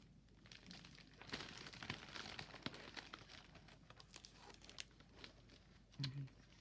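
Gift wrapping paper crinkles and tears softly in quiet, irregular bursts as a present is unwrapped close by, with a brief low voice near the end.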